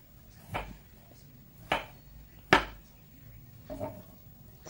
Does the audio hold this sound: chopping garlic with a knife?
yes